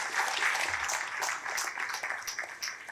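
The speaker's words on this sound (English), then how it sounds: "So let us give them one applause." Audience applause at a devotional ISKCON Vyasa Puja festival in Hyderabad, a steady broad wash of many hands clapping at moderate loudness that holds for the whole stretch and thins slightly toward the end.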